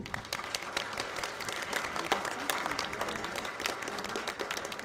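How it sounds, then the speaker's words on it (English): A church congregation at an Easter Sunday service applauds to welcome a newly baptized woman: dense, even clapping from many hands filling the room, steady throughout with no voices over it. "And now let us welcome her with applause."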